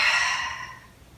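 A single audible exhale pushed out through the mouth during a Pilates core workout, a soft breathy whoosh that fades over about a second, close and alone.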